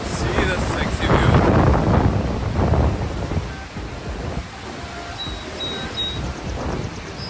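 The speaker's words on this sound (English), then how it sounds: "I can see the biggest waterfall here." A large waterfall in New York roars as a continuous broadband wash of falling water, loudest at first and then steady, mixed with wind buffeting the microphone.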